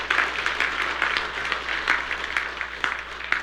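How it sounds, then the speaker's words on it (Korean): Steady applause from a church congregation fills the whole stretch, dense overlapping claps with no pauses and no voices on top. "우리 한번 다 같이 감사의 박수 한번 칩시다."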